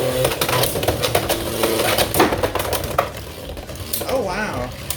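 Beyblade X spinning tops, Hells Scythe against Rhino Horn, clash in a plastic stadium battle with dense rattling, scraping and clattering hits, loud and close, while a voice speaks briefly near the end.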